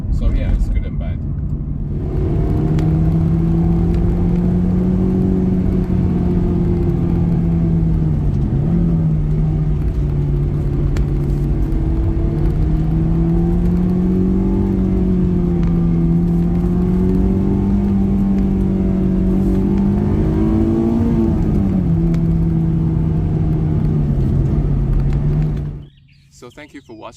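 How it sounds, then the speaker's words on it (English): A Honda S2000 engine drones steadily under acceleration, with a smooth rising-and-falling tone and little exhaust bark, loud and close for about 25 seconds before cutting off abruptly. "if you really step on it, there's not much exhaust sound"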